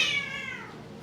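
A single cat meows once, close and fairly clear, a short falling cry of about a second with nothing else heard.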